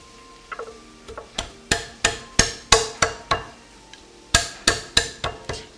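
A knife chops the ends off food on a cutting board, a series of about fifteen sharp, close knocks in an uneven rhythm with a short pause in the middle. No one speaks.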